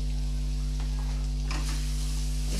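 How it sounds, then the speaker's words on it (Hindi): Ground coriander, red chili and dried fenugreek cook in a pan for a raw-mango chutney, giving a steady soft sizzle with stirring scrapes that swell midway, under a constant low electrical hum. "मसाले हमारे थोड़े अच्छे से पक जाएं इसलिए हम इसे थोड़ा अच्छा मिक्स करके पका लेंगे"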